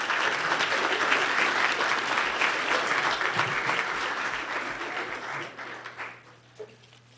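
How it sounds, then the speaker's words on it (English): Steady applause from a sizable audience, clapping loudly for several seconds before thinning out and fading near the end. "cut loose with a little applause for all our panelists"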